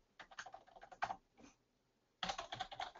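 Computer keyboard keys being typed in two quick bursts of clicks separated by a short pause, close and fairly quiet with no talking.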